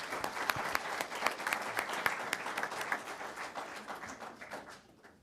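A room of people at a school board meeting gives a big round of applause for a DECA student group, steady dense clapping for about five seconds that thins out and fades at the end.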